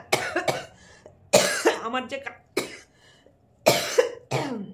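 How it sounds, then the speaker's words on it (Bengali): A person with a cough of several days coughs close up in a quiet room, with several harsh bursts grouped in short clusters and pauses between them. "আমার যে কাশি হচ্ছে না, আর কাশির জন্য কিছু ভালো লাগছে না"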